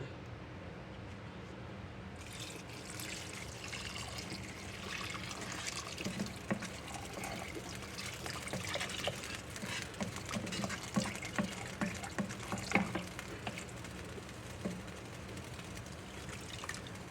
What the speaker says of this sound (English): So I'm just putting a little water, okay?